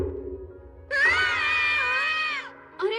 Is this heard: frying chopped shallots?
no